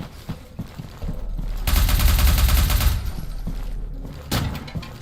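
Grenade blast in a video game, a loud, heavy, roaring burst lasting over a second, then a fainter later thump amid scattered clatter.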